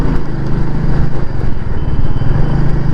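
A Royal Enfield Meteor 350 motorcycle rides along in first gear, its single-cylinder engine putting out a steady low, throbbing thump that stays loud and close for the whole stretch with no voices.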